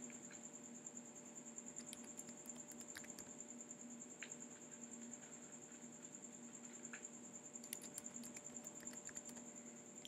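Fingers tapping a password on a computer keyboard, quiet irregular clicks in short bursts over a steady electronic hum, close and faint.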